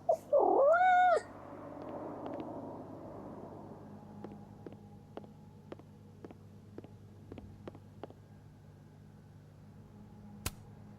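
A cat in the video game Life Is Strange: Double Exposure lets out one loud, drawn-out meow at the start, followed by quiet ambient game sounds with faint clicks and no talking.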